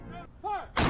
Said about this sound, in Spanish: Con 21 cañonazos fue recibido en el Capitolio